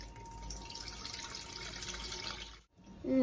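Homemade floor cleaning liquid made with boiled soapnuts, alum and camphor is poured through a strainer, giving a steady close trickle of liquid that stops abruptly near the end.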